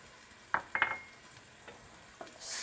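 A spoon stirs tomato sauce, olives and salt in a pot on the stove, giving a few soft scraping knocks against the metal over a faint simmer, heard close and quiet.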